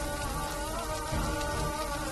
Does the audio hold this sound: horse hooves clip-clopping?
no